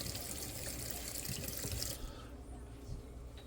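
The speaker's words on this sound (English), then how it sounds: "I've got to wash my hands off." Hands being washed under a running kitchen tap during cooking prep, a close steady rush of water with splashing that stops abruptly after two seconds, leaving faint drips and quiet.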